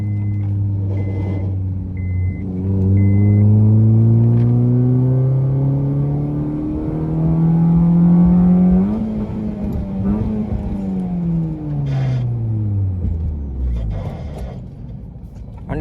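A lowered Honda Jazz with a full-system straight-pipe exhaust revs up and down several times, a loud, close, rising and falling engine drone that ends in one final climb and drop.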